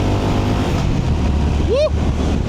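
A motorcycle engine on a road in Kagoshima hums loudly and steadily, with a brief rising whistle-like sweep partway through, close and continuous.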